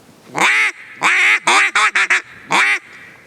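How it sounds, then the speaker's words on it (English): A duck call blown close and loud as a series of nasal quacks, two longer ones followed by a quick run of short ones and a final quack. "I'm giving 3 or 4 little quacks on the back side of it"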